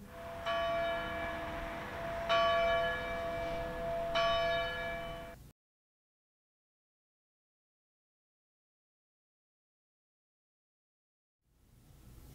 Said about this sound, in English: we too may hear the chimes ring.